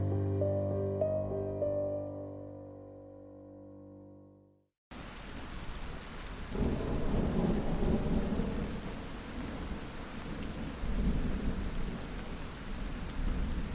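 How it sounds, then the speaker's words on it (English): Thunderstorm with heavy rain bursting in after a sustained musical drone cuts out, a dense roar of downpour with deep rolling thunder swelling partway through, loud and continuous to the end. "The storm came fast that night"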